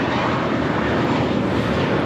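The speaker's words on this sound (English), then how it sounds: "764 taking off to Puerto Vallarta on the A321" An American Airlines Airbus A321 takes off at LAX with a dense, continuous jet roar heard from a distance, steady and broadband.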